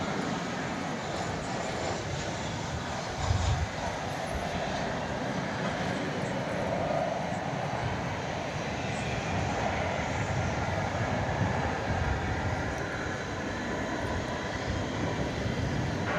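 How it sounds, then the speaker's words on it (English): Frontier Airlines flight 4070 from Denver lands at DFW at night, a steady, fairly distant jet engine roar that holds broadly even over the whole stretch. "Frontier, coming in from Denver, flight 4070, with a critter on the tail."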